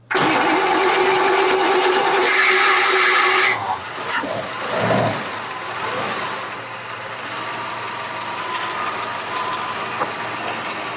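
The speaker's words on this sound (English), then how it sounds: "Turn up the idle just a little bit." A 1956 Chevy engine runs loud and rough at first, then dips and settles into a steadier, quieter idle as the idle is adjusted, heard close up.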